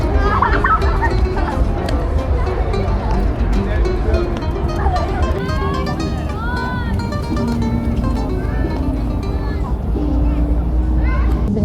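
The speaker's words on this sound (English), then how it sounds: "You can see the geese have kind of taken it over, but I love that we let them exist." Geese honk and gobble in a lakeside park in Toronto with boats nearby, loud and busy calls layered over a voice talking.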